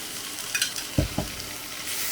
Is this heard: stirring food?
yes